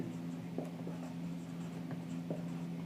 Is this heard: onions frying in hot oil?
no